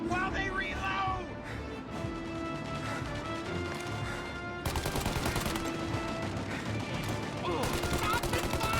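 Gunfire in the Mafia video game: sharp shots and crashing impacts erupt in bursts, loud and close, with voices talking over the shooting.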